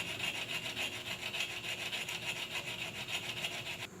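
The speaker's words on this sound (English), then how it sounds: "we just use a small file, and it won't take very long" Small hand file cutting slots in metal, a close, steady rhythmic rasping of quick back-and-forth strokes with no voices.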